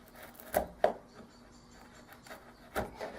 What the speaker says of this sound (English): I just need to chisel that out a bit and then work up